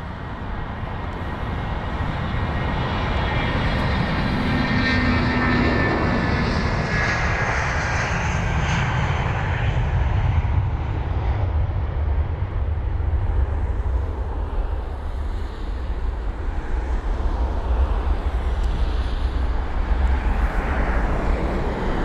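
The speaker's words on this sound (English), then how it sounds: "And that was BA1394, the British Airways One World special sticker, on board the Airbus" A British Airways Airbus airliner departs London Heathrow, its jet engines building into a loud, sustained roar that holds steady and slowly fades as it climbs away, with no one speaking.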